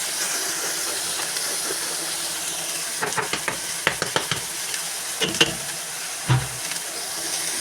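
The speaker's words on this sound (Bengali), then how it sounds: "নাড়াচাড়া করে দিব নিচে সব কিছু সাথে মিশিয়ে নিব সুন্দর করে" Cauliflower sizzles in a pan with turmeric and salt, a steady loud hiss with scattered spoon-scraping stirs and clatters partway through, no talking.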